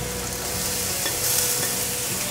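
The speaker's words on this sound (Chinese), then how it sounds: "把红萝卜炒一炒，略炒一下" Carrots are stir-fried in a pan for a vegan Hakka taro dish, giving a continuous loud sizzle with faint scraping of a spatula underneath and no voices.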